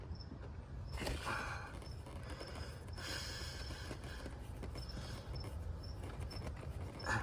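A 10mm socket wrench loosens a bolt near the intake manifold of a second-generation Chevy Colorado, giving close, brisk ratcheting clicks in short bursts over a steady low hum.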